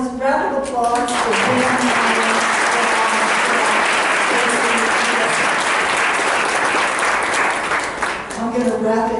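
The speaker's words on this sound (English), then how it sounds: "Panelists, round of applause for" Audience applause for a panel at the close of an HR discussion event, dense sustained clapping from a crowd filling the room, with a voice talking briefly at the start and end.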